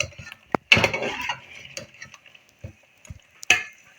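Chicken achari handi with blackened onions stir-fried in a pot: intermittent clanks and scrapes of a metal spoon against the pot, with a brief sizzle between strikes, close and sparse.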